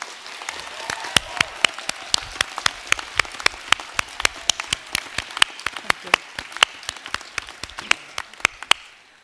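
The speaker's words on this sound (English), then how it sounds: "Let's give all of your guests a massive round of applause for everything they've done." Graduation audience at a university winter ceremony in Derry~Londonderry applauding the guests, many hands clapping at once, with sharp individual claps standing out through a steady roar that runs the whole length.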